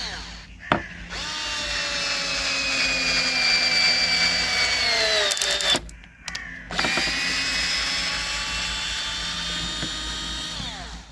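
Cheap Action cordless screwdriver, sold for 19.99 euros, drives a large screw into wood with a steady high-pitched motor whine that slowly drops in pitch under load, briefly cuts out, then whirs again.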